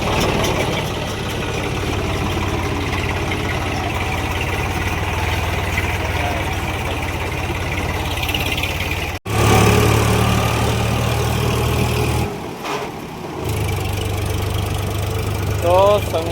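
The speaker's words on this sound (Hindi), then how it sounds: "ये देखा ट्रैक्टर" A tractor engine idles with a steady low chugging rumble throughout, briefly cut off and dipping midway, with faint voices in the background.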